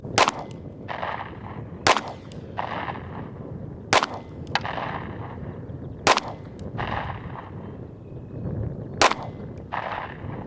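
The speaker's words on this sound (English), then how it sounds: "I'm going to load up the Federal HST and shoot my 5 rounds at the bottom square there" Ruger Max 9 pistol firing Federal HST rounds at a target at 10 yards, loud sharp shots spaced a couple of seconds apart, each followed by a short ringing echo from the range.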